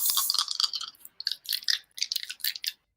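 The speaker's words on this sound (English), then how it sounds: "Ooh, good dice sound." Dice rolled during a tabletop role-playing game, a d20 among them: close, crisp rattling clicks and skittering taps on a hard surface in several quick bursts, with no talk over them.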